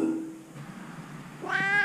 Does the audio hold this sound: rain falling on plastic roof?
no